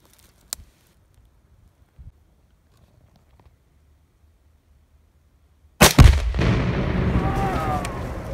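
Fifteen pounds of binary explosive detonating in a huge five-foot tree stump outdoors: a few faint ticks, then a sudden loud, deep boom followed by a long rolling rumble and debris noise.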